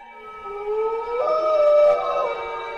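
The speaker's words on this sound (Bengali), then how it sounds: "খুব জোরে জোরে বাতাস বইতে শুরু করেছে।" A cartoon sound effect of strong stormy wind howling at night through an open window, one long moaning tone that rises and falls and holds steady on its own for about three seconds.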